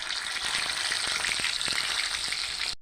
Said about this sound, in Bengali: এইগুলো ভাজা হয়ে গেছে, এগুলো এখন উঠোই নেব।